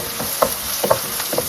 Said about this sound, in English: So I'm going to put the red onions and the green chilies.